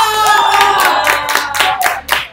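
A small group claps in congratulation for a prize winner during a live online show, brisk uneven claps close by with some ringing tonal sound underneath, lasting a couple of seconds.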